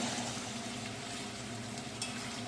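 Mutton for curry sizzles and fries steadily in hot oil, a continuous close crackle with a light scrape of stirring near the end.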